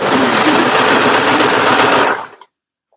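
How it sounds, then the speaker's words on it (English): An overlocker stitches a scrappy piece of fabric for a side seam on an edge-to-edge cardigan, running as a loud, steady, rapid mechanical whir for about two seconds before stopping abruptly. "put quite a scrappy piece of fabric under the overlocker, and it comes through looking all beautiful and neat and tidy"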